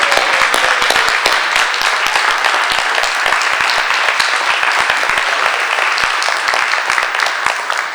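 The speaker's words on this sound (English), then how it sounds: "Can everyone please join me in a round of applause for Paige Rosenfeld" Steady, dense applause from an audience at a Hoboken school board meeting, many hands clapping loudly and evenly for the full eight seconds with no speech over it.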